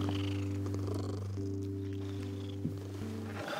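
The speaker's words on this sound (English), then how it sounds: "Listen. She's purring." A soft, friendly cat purring steadily and close, a low continuous rumbling drone with no talk over it.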